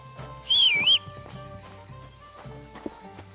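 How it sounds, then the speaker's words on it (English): A rider in the Kingdom Come Deliverance II video game whistles a short, bright, wavering tune on horseback while hooves clip-clop softly in a quiet rural setting. "Are you whistling just for fun?"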